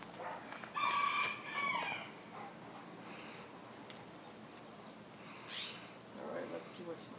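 A small rooster crows a couple of times in short bursts, fairly near and outdoors, with quieter gaps between calls and no talk.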